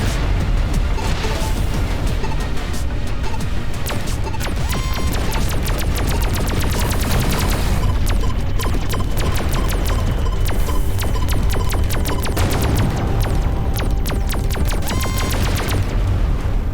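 Repeated heavy impacts and crashing bursts from a Gauss cannon firing on enemy ships in the space game Everspace 2. They sound dense and loud over a constant low hum, with no talk.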